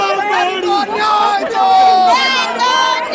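A large crowd of protesters fills a street in Uttarakhand with loud, overlapping shouting and chanting voices, a dense continuous roar of many people close by.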